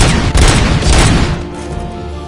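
Dense, loud gunfire in a RoboCop video game, a continuous roaring fusillade of overlapping shots that thins slightly toward the end.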